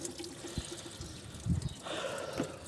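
Coolant trickles and pours out of a Fiat Uno radiator as the engine water drains, a steady liquid dribble that swells into a louder gush partway through, close and with no talk.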